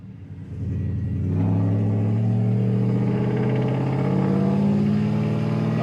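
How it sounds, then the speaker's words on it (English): A second-generation Ram truck engine rises in steady, loud revs as it shifts up through the gears, a continuous close drone with strong low harmonics that climbs and settles after each change. "Shifting through the gears."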